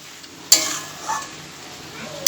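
Fried pea-lentil fritters being stirred into a banana-flower ghonto in a pan, with a sharp clatter at the start and end over a low continuous sizzle, close and moderately loud.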